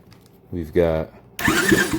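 A Honda ATC 70 engine cranks over in short mechanical bursts, first a whirring tone and then a rougher spin, with a voice audible alongside.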